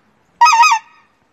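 A single goose gives one loud, close honk, a short nasal call that lasts about half a second and then trails off into silence.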